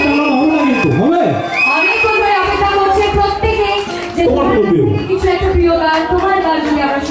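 Concert crowd celebrating Mahalaya cheers and shouts, a dense, loud wash of many voices with rising whoops and children's yells, sustained throughout with people talking amid the noise.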